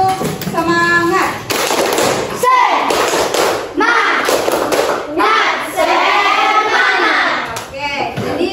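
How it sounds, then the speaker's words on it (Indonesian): A class performs a rhythmic spirit clap, children clapping and slapping in patterned bursts with sharp thumps while chanting along in unison, loud and close. "silakan tepuk semangat"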